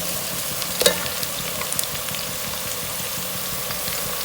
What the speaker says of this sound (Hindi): प्याज हमारे ब्राउन हो चुके हैं।